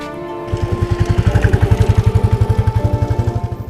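Motorcycle engine starts up close and loud, then settles into a rapid, even pulsing chug that swells and fades slightly as it pulls away, with no talking.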